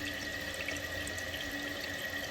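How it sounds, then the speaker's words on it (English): Kohler toilet tank refilling with a newly replaced fill valve, a steady, even hiss of rushing water that holds constant throughout at moderate level with no talk. "Let it fill one more time without having to flush it again."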